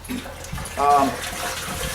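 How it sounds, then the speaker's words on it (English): Water running through a food-grade hose while measuring strike water for an all-grain brew-in-a-bag mash, a short gush and trickle heard under light room noise. "This is a food grade hose, and I'm using this to measure the water volume."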